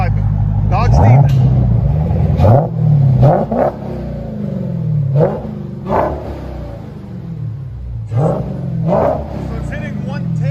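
A straight-piped Dodge Demon with mufflers and resonators removed revs repeatedly, each loud, close blip rising and falling in a rhythmic series of barks and rumbles, with short pauses between.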